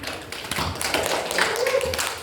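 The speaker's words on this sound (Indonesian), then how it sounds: "Kita tepuk tangan" A class clapping hands after a group presentation in a microteaching lesson, an uneven burst of close claps and taps with some thuds, with speech over the top.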